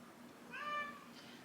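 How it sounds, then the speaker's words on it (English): A pet cat meows once, a clear, drawn-out close call rising and falling in the middle of an otherwise quiet room. "my cat is meowing"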